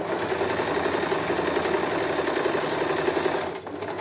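A sewing machine runs steadily while stitching a tulip-shaped decoration onto a bag, its needle drive a continuous close buzz that eases slightly near the end.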